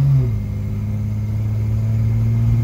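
Slant Six engined car accelerating on the road at light quarter throttle, a loud, steady low engine drone with a slight pitch shift early on, recorded close from inside.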